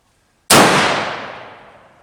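A single muzzleloader rifle shot fired on a mountain during a deer hunt, one sudden loud blast after a brief silence, followed by a long echoing decay that fades over more than a second.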